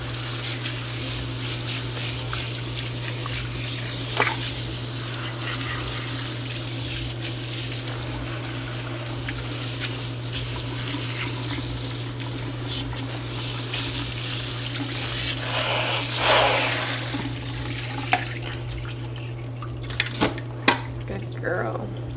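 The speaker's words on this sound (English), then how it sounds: "All right, last rinse." Running water from a tap or sprayer pours steadily over a Mini Goldendoodle puppy during a final rinse, a constant close splashing wash with a low hum beneath and a few brief drips and knocks near the end.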